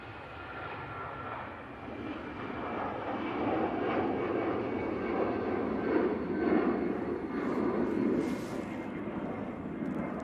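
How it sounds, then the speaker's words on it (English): A Brussels Airlines airliner at Manchester Airport rumbles as a broad, distant engine roar that swells gradually and holds steady for several seconds, with no talk over it. "Brussels Airlines taking the intersection."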